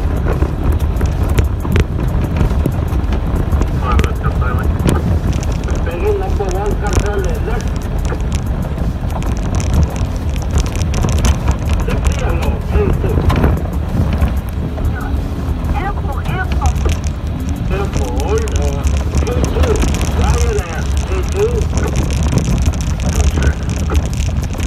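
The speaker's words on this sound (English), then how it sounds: "It's too windy." Strong outdoor wind buffets the microphone in a loud, constant low rumble and roar, with muffled voices talking underneath during a trip to Bethel, Alaska.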